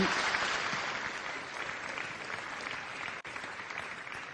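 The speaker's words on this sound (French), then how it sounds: "on va les applaudir évidemment" Audience at the Talents des cités opening ceremony applauding award winners, a dense, continuous burst of clapping from a large crowd that stays full throughout, with only a brief dip near the end.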